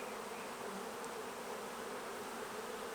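Honey bees buzz around an opened hive during frame inspection for queen rearing, a dense, even, continuous drone close by with no talking.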